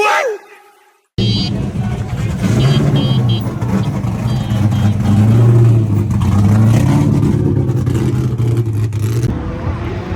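A car engine at a New Jersey drift event runs loud and steady with a low droning rumble after a brief quiet start, while people talk nearby.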